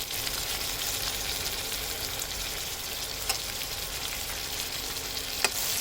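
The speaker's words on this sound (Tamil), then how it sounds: "இது எல்லாத்தையும் நல்லா வதக்கிக்கலாம்" Chopped tomatoes sautéing with turmeric and asafoetida in a hot pan give a dense, steady sizzle throughout, broken by a couple of sharp clicks from a spoon.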